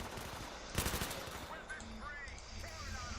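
Gunfire in the video game Battlefield 3: a sharp burst of rapid shots around the one-second mark, with game background noise and faint voices continuing around it.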